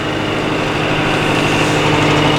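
A Case CS94 tractor engine runs steadily with a constant droning hum and mechanical whine, loud and close, with no talking over it.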